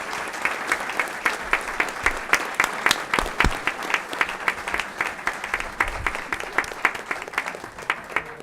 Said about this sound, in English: Let's give all our principals and their staff a great round of applause for all of their hard work this past